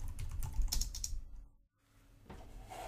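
Code being typed on a computer keyboard: quick, close clicking keystrokes in a dense run, a short silent pause, then typing resumes more lightly.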